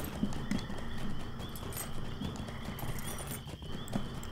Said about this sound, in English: Let's use my horse